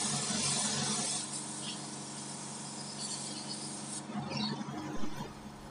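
An Awarita spray gun with a 0.8 mm nozzle lays a light mist coat of clear over a sticker, giving a steady close hiss that wavers and surges briefly near the end.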